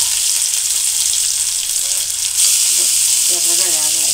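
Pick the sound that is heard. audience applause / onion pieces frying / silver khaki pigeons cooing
onion pieces frying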